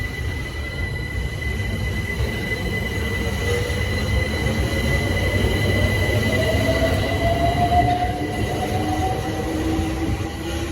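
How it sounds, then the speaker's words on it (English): A London Overground Windrush line train pulls out of a station platform at Denmark Hill or Peckham Rye with a continuous loud rumble, rising motor whine and faint wheel squeal that stays close throughout, with no talking. "departing now is the 10:37 Windrush line service to Clapham Junction"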